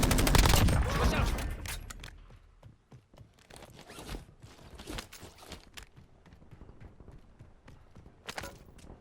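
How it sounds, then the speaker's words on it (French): Gunfire in the battle royale video game Warzone, a burst of shots opening the clip followed by scattered sharper pops and impacts, with quieter game activity between them. "Ça tire, mais j'aurais aimé savoir de où."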